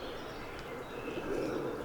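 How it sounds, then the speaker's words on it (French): Pigeons in Italy coo softly while lying in the sun near a small garden lake, low murmuring calls rising slightly toward the end over steady outdoor background noise. "Oh, les pigeons italiens, ils sont vautrés comme des merdes au soleil."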